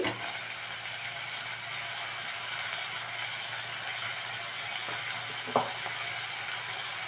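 Tomatoes with salt and turmeric sautéing in a pan for a millet pulao, a steady soft sizzle running throughout with a faint clink near the end.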